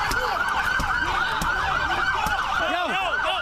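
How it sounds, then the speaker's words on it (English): Police car sirens wailing in repeated rising-and-falling sweeps, fairly loud and continuous, during a violent police confrontation, with scattered sharp knocks and background commotion. "Turn the sirens off!"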